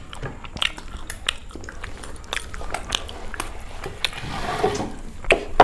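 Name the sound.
chewing and biting food (biryani, chicken lollipop, egg roll)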